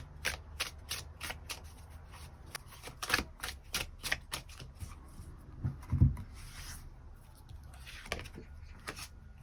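Tarot cards are shuffled and drawn at close range, making a run of quick sharp riffling flicks and slaps, then softer sliding and rubbing as cards are handled and laid out.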